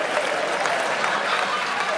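Audience applause at an Armenian stand-up comedy league show, a dense, steady wash of clapping that holds at an even loudness for the whole stretch, close and continuous.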